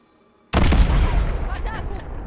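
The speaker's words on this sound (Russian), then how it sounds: "Взрывай машину, Алекс." In the video game Call of Duty: Modern Warfare, after a moment of quiet, a car explodes with a sudden loud boom that rolls into a long rumbling roar with debris crackling as it slowly fades.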